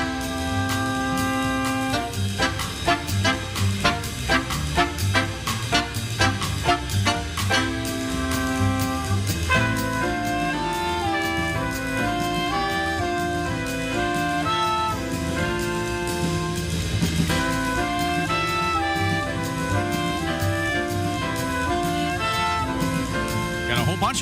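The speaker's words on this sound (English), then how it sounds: "Bunch of horns there because he's got the saxophones with him too" Jazz trumpet with saxophones playing a tribute, a sustained ensemble of horns over a rhythm section, with busy melodic lines and steady beat, continuous and moderately loud.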